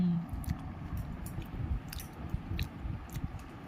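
Maggi noodles are eaten with a fork, giving faint close chewing and soft squishy bites with occasional light clicks, in a quiet room.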